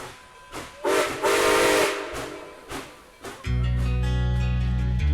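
Bursts of hissing steam puff out, then a loud, sustained steam locomotive whistle sounds for over a second before cutting off.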